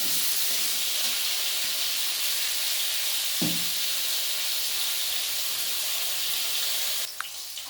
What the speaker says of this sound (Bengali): দিয়ে আলুগুলো আমি বেশ লাল করে ভেজে নেব।